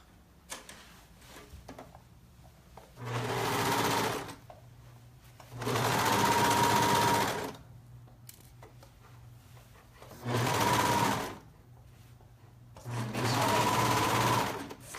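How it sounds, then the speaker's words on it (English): Serger overlocking around the legs of knit joggers, running in four separate bursts of steady, fast, loud machine whirring with quiet pauses between them and no talk. "I'm just going to serge all the way around."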